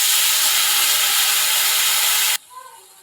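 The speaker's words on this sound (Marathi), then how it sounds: "पाणी घालून घेऊयात." Water poured into a pan of bombil and onion curry, a loud rushing hiss and splash that stops abruptly, followed by a quiet bubble.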